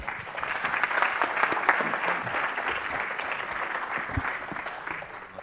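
Audience applause for a panel at a health IT security event, a dense steady wash of many hands clapping that holds for several seconds at even strength, with no voices over it.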